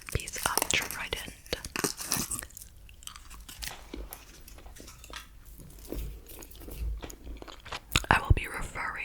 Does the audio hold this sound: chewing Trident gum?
yes